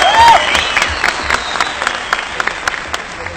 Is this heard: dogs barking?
no